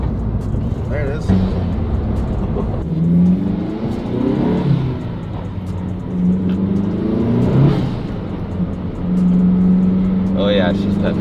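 A car fitted with an upgraded turbocharger and a freer-flowing intake accelerates on a test drive, the engine rising and falling in pitch with a whooshing intake note, while people talk over it inside the cabin.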